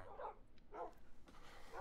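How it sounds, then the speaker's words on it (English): Dogs barking in the Minecraft video game, a few short yapping barks in a quick irregular series, faint and alone. "I'm gonna turn down these dogs"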